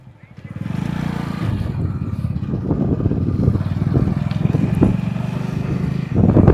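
Hero Splendor motorcycles riding along, a steady low engine drone with a rhythmic putter and occasional bumps, close and continuous, with people talking over it.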